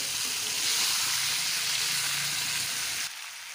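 Fried kuri fish cooked with mustard and eggplant sautés in hot oil, a loud, steady hissing sizzle that fills the clip and drops off abruptly near the end.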